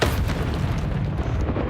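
A Confringo explosive spell blast in the Hogwarts Legacy video game, a loud, sudden boom that rolls into a dense crackling rumble lasting well over a second.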